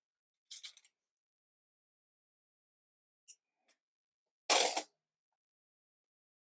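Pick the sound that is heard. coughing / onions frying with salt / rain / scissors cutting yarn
scissors cutting yarn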